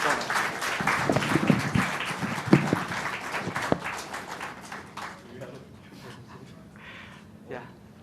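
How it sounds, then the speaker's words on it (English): An event audience applauds the speakers, several seconds of dense clapping that slowly thins and fades, with talk over the later part. "A big round of applause for them"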